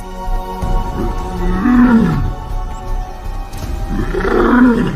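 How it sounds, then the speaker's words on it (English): Male lions roar in the wild, two deep, drawn-out roars, loud and close, each rising and then fading, with a low rumble between them. "These roars declare not possession of territory, but availability."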